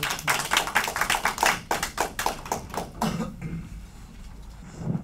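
Lecture audience applause welcoming a speaker: sparse, close hand claps at first, then thinning out after three seconds into faint scattered claps and room noise.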